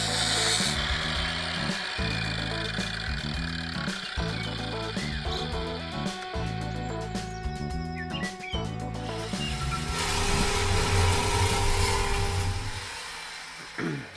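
A power tool saws a steel tube into pieces in a workshop, making loud rhythmic cutting strokes in repeated bursts with short pauses, then a harsher continuous grind near the end, with no talk.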